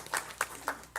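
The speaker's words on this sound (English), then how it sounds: "I would like for us to give teachers another round of applause for what they do every day" A few sparse, faint claps ring out one by one in a meeting room at a school board session, spaced roughly evenly over about a second.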